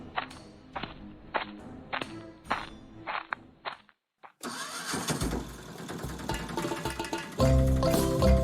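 A cartoon auto rickshaw engine sputters through several rhythmic cranks, goes quiet for a moment, then catches and settles into a loud, dense rattling idle.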